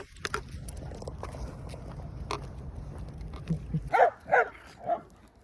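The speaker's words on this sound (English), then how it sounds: "Oh, there's another dog here." A second dog encountered on a suburban walk near Nanjing, China, gives several close, loud barks in quick succession near the end, after a stretch of quieter outdoor background.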